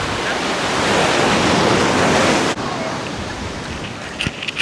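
Ocean waves wash steadily onto Jungle Beach in Galle, Sri Lanka, a broad, loud surf roar with wind buffeting the microphone, easing slightly partway through, with faint clicks near the end.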